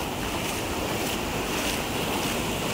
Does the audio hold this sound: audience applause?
no